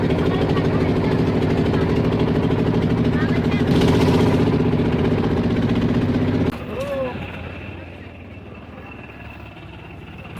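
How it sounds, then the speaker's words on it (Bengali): A boat's motor drones steadily while crossing a river, a mid-pitched engine hum under people talking, before the engine sound fades and quieter voices and ambience remain. "আমরা এখন নৌকাতে যাচ্ছি"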